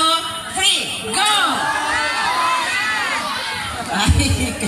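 A festive crowd at the Bil-at fiesta shouts and cheers 'mabuhay' together, a loud, sustained burst of many voices with a few higher whoops rising above it.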